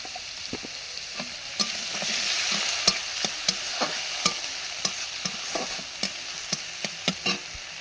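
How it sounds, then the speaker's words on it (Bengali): Spices with turmeric and ground cumin cook in a little water in a pan for a paneer dish: a soft steady sizzle punctuated by regular sharp clicks of a spoon stirring and scraping, close and alone. "সমস্ত মশলাগুলো আমি একটু এখানে জল দিয়ে কষিয়ে নেব।"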